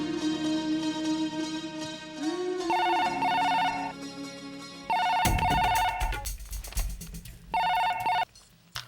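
Telephone rings at night in repeated electronic ringtone bursts, several tonal phrases separated by short gaps, fairly close and clear with no talk over it.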